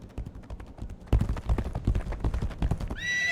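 Horse galloping in the video game Legacy of Kain Ascendance, with rapid rhythmic hoofbeats close up, a whinny partway through, and a rising tonal effect at the end.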